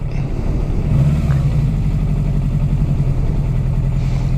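A 1982 Suzuki GS750 motorcycle engine idles cold on choke nearby, a steady low rumble holding an even, slightly lumpy rhythm throughout with no voices.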